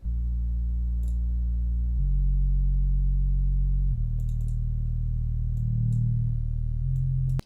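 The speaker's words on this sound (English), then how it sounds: "So let's go first with the sub bass." Synth sub bass with no filter cutoff, a plain low tone held across several sustained notes that change pitch every couple of seconds, steady and loud, alone with no voices.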